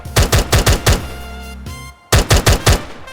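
Loud bursts of rapid gunfire from a crafted gun in Minecraft with the Create mod, firing in two quick strings of punchy shots with a brief pause and a lingering tone between them.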